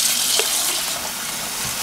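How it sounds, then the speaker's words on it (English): Apples drop into a sink of lukewarm water, a short burst of splashing and sloshing with one clear plunk near the start. "I'm just gonna put all of my apples in there and let them soak for just a few minutes."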